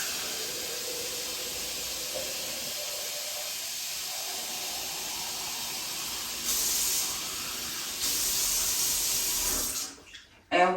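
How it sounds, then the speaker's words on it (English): Tap water runs in a steady hiss into a container, swelling louder in two stretches before cutting off with a few clunks at the end. "let's put some water in here."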